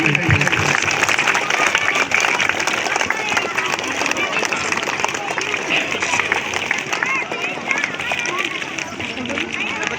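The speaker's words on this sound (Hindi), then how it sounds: "तालियां बजाइए।" Crowd applause at an outdoor village gathering for a government Viksit Bharat Sankalp Yatra event in Pandeypur, a dense, steady wash of clapping lasting throughout, with voices mixed in underneath.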